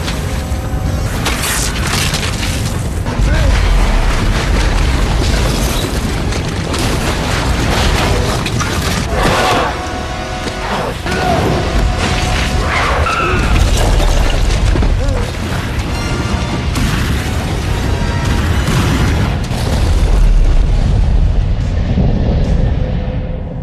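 A gas pipe explodes in a horror film, part of a dense, loud stretch of booms, crashes and rumbling effects that fills the whole passage without a break.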